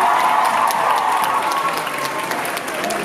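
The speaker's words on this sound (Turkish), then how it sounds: "O zaman sizi de bir alkışlayalım." Steady applause from a concert audience in Paris, continuous clapping filling the space for a few seconds without a break.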